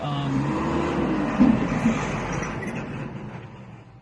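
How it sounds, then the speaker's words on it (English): A truck rumbles past a parked car, a broad, heavy engine-and-tyre roar heard from inside that swells briefly and then steadily fades away. "I had to let the truck go by"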